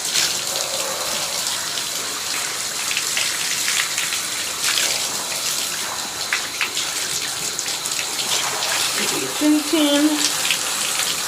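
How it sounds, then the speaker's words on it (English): Water sprays steadily from a hose over a long-eared dog's head and ears during a bath at home, a continuous close hiss with soft splashing, and a brief spoken word near the end. "I'm spraying the water on top of his ear"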